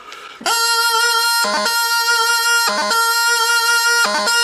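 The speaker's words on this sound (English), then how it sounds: "You need your grip to sound like this." A bagpipe sounds steadily with its drone, broken three times by quick grip embellishments, clusters of three crisp grace-note blips, each grip cleanly separated.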